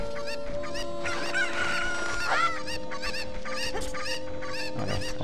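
A chicken in the video game Zelda Ocarina of Time clucks and squawks in quick, busy bursts, close and fairly loud, with some crowing-like calls mixed into a steady game soundscape.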